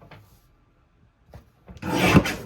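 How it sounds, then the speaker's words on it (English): A paper trimmer slices through brown cardstock in a card-making workshop: a few soft taps, then one quick rasping cut that swells loudly near the end, with no talking. "We're going to trim this at 8 1/4"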